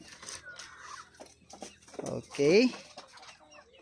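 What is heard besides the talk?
chickens clucking in coop, Rhode Island Red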